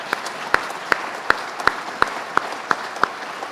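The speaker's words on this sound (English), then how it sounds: "So let's give her a warm round of applause." Audience applause at the 2016 Adirondack Challenge event, honoring a woman on stage: a steady wash of clapping hands with sharp, evenly spaced louder claps cutting through about every third of a second.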